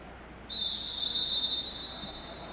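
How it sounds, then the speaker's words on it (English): A referee's whistle at a roller derby bout between Mass and Toronto, one long shrill blast lasting about two seconds over low arena ambience. "And the whistle has been sounded."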